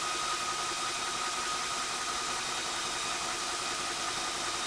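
Spritech 4500 PSI PCP air compressor for air rifles runs steadily at a constant level, a continuous mid-pitched mechanical hum with broadband noise, no talk.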